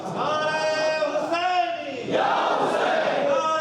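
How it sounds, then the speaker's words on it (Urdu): A crowd at a religious gathering honouring Imam Hussain in Aurangabad chants the Takbir slogan in loud, sustained unison, a massed roar of voices that swells and continues for several seconds. "قدر شبیر ہوئے نعرے تکبیر کے ساتھ"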